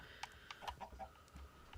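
Chickens cluck in a video game, a handful of short, separate clucks and squawks spaced irregularly at moderate volume, with no speech.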